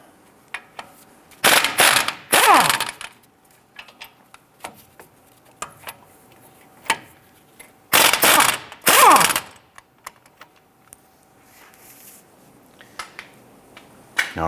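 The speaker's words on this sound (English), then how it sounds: "Using a 21mm socket, let's go ahead and remove the 2 caliper bracket bolts" Ratchet with a 21mm socket loosening the caliper bracket bolts on a 2002-2008 Dodge Ram 1500 front brake, heard as two loud bursts of rapid metallic clicking, separated by quieter workshop clatter and small taps.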